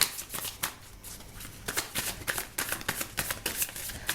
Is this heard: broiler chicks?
no